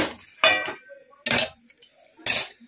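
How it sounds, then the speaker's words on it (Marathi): A metal lid set down on a pan over a low gas flame in a home kitchen gives three sharp, close clanks spaced about a second apart, with quiet gaps between. "झाकण ठेवते यावरती"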